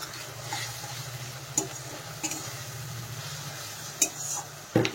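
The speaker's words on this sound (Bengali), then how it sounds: "এখন আমি দিয়ে দিচ্ছি মশলা। মশলার মধ্যে আদা, কাঁচা লঙ্কা আর জিরে বাটা।" A paste of ginger, green chilli and cumin goes into onions fried until red in a home kitchen pan, a faint, steady sizzle broken by a few sharp scraping clinks of a utensil against the pan.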